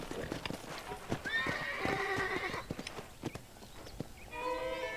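A horse's hooves clip-clop at a steady trot in Red Dead Redemption, followed by a loud, close whinny near the end, with no talk over it.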